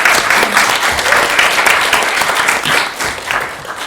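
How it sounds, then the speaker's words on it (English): Audience applauding at a horror film screening and Q&A, a dense sustained round of clapping from a full room, steady throughout with no talk over it. "So can we have a round of applause"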